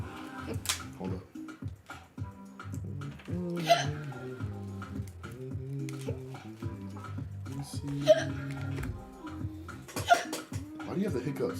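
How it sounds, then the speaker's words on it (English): Loud hiccups from a person, several sharp bursts spaced irregularly over steady background talk and household noise, close to the microphone. "Why do you have the hiccups?"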